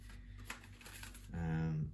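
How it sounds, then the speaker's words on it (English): Tarot cards being shuffled by hand give a short run of soft papery riffles and taps, quiet and close, before a voice cuts in near the end. "Now I don't know why I'm shuffling."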